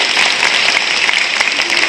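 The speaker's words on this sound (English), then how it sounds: "Please, a huge round of applause for them." A school annual day audience gives a loud, dense, continuous round of applause for the teachers, close and unbroken throughout.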